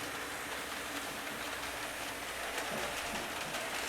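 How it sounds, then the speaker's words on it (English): HO scale model train running on a large home layout, coming out of spiral tunnels onto a waterfront trestle; a steady, fairly loud hiss-like rumble of wheels on track with faint clicking continues throughout, with no talk. "right here is where the trains coming down out of the spiral tunnels come out onto the Seattle waterfront trestle"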